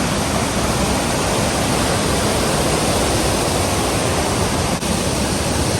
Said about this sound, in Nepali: त्यही भेल म आज हजुरहरूलाई देखाउन गइरहेको छु